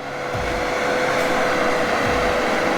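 A timber logging machine with a grapple works a difficult tract, its engine a loud, continuous, close-up drone with a steady whine that holds unchanged throughout and no talking.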